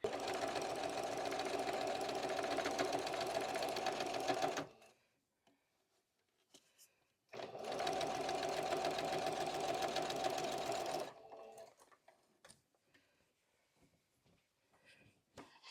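A sewing machine stitches with a lengthened stitch to join quilt-as-you-go blocks, running in two loud, steady bursts of several seconds each, with quiet fabric handling and small clicks between them.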